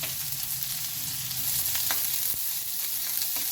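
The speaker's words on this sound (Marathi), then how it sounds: "त्यामध्ये आता आपण पत्ताकोबी घालून घेऊया." Shredded cabbage hisses loudly in hot oil in a pan for ragi soup, a dense, steady sizzle with a few faint scrapes of stirring, close and continuous.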